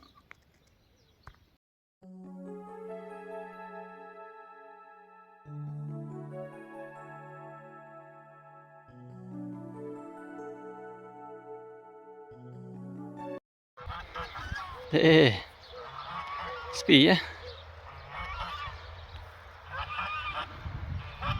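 Wild geese honking in a loud, dense flock, harsh repeated calls crowding together near the end, after a stretch of sustained tonal humming; a few faint spoken words come early.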